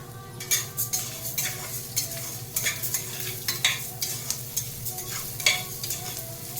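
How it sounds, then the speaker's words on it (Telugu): Toor dal fries in oil with cumin seeds in a pot, giving a soft, steady sizzle. A spoon stirs and scrapes against the metal in regular clinks and scrapes, close and alone without talk. "పప్పు కొంచెం వేగనివ్వాలి ఫ్రెండ్స్, వేగితే బాగుంటుంది"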